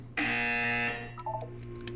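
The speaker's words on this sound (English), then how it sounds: "When you hear the buzzer, look up at the ceiling." A loud electronic buzzer from the Portal 2 video game sounds once as a steady tone for about three-quarters of a second. Faint, softer electronic blips follow it.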